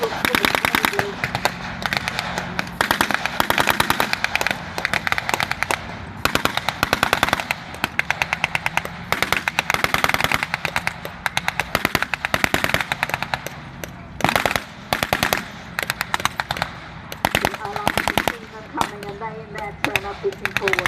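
Blank gunfire at an outdoor WW2 re-enactment battle, dense bursts of automatic fire and scattered single shots rattling almost continuously, loud, with a voice talking over it.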